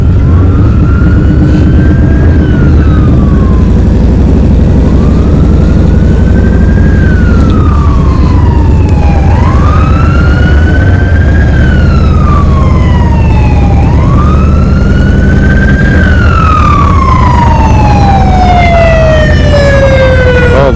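A wailing emergency siren rising and falling repeatedly, loud and close over heavy road and engine noise heard from a motorcycle on a highway near an accident scene.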